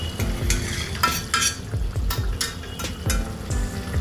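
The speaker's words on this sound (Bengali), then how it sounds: "এরপরে একটু নেড়ে ঢাকা দিয়ে দিই।" Fish curry stirred in a sizzling pan, a spatula scraping in repeated rhythmic strokes over a steady frying hiss, close and fairly loud, with no voices.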